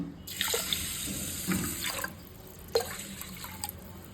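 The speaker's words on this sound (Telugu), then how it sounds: "ఇప్పుడు ఇందులో పప్పు బియ్యం ఉడకడానికి సరిపడా వాటర్ పోసుకుందాం" Water runs into a vessel holding lentils and rice, a continuous splashing stream with a few clinks and drips, close by and moderately quiet.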